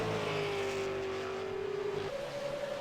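A race car engine drones loudly as it exits turn 4 during a SARA Super Series race at Richmond, holding a steady high note that steps up in pitch partway through the clip, with no voices over it.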